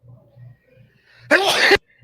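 A single loud, sharp sneeze bursts out after a quiet stretch, ending abruptly with near silence afterward.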